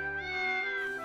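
A cat in the video game Triangle Strategy gives a single close, clear meow lasting about a second, heard on its own.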